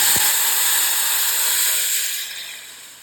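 Tamarind water with green chillies poured into a hot pan hits with a loud, sustained sizzling hiss that gradually fades as it settles.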